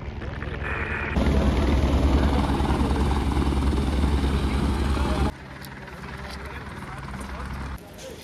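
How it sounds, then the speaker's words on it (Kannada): A loud helicopter engine and rotor roar fills the first five seconds at a Kedarnath helipad, then cuts to quieter outdoor rumble with faint voices nearby. "ನೀವೇನಾದರೂ ಹೆಲಿಕಾಪ್ಟರ್ಗೆ ಬಂದಿರೋದ್ರೆ ಇಲ್ಲಿ ಇಳ್ಕೋಬೋದು."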